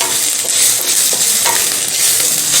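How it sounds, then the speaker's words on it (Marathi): Onion and garlic frying in a pan while being stirred, a loud dense sizzle with quick scraping strokes of a spatula, close up and without voices. "एकसारखं हलवत कांदा छान खरपूस किंवा लालसर रंग येईपर्यंत भाजून घ्या"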